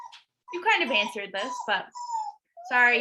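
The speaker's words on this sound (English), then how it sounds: "That's my dog." A pet dog named Oliver whimpers and whines in high, thin bursts near the microphone, the cries weaving between and under people talking.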